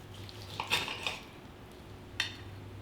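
A knife cutting through a grilled ribeye steak on a plate, producing a few sharp scraping clinks of metal on dish, close and quiet, then a later single clink.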